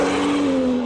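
A modified BMW M2 from 2016, tuned to around 450 bhp, its engine revving hard and loud from close by, a sustained droning roar that eases slightly through the second.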